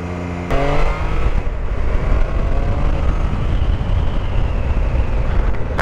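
A motorcycle engine pulls away and accelerates, a steady, fairly subdued drone with a rising whine after a sharp start, heard close and continuing without a break.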